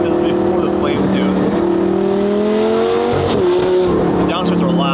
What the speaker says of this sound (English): First drive with the new exhaust.